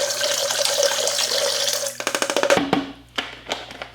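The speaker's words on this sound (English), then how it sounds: "next I'm going to add my solution to the bucket." Descaling solution pours into a bucket in a steady rushing splash for about two seconds, then breaks into gurgling, spattering bursts and drips as the flow tapers off.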